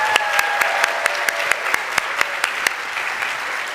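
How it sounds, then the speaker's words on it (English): A live audience claps for a team in a short burst of steady applause, with sharp individual claps standing out near the front and no voices over it. "So big applause to the entire team that made this possible and pushed to get us here."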